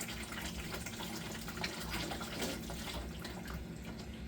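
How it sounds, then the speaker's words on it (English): Water runs and splashes continuously at a steady, moderate level as it drains from the bottom valve of a water heater tank nearby, with no voices. "Now I can open my valve at the bottom, and I can get some of that draining off of the bottom as well."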